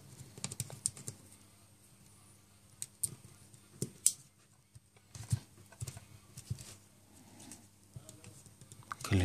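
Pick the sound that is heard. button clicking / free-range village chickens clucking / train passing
button clicking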